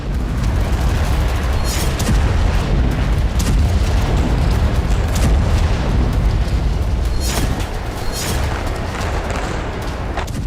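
Shelling explosions near the Indonesian hospital in Gaza, a loud, dense roar of heavy booms and blasts rolling on continuously, with several sharper bursts standing out.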